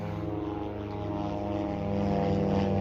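A propeller airplane passes overhead outdoors near a garage, a steady droning engine hum with strong tonal buzz that grows slightly louder toward the end, with no voices.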